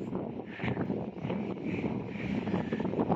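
Strong wind at a beach buffets the microphone in a continuous rough roar with gusty swells, with no talking.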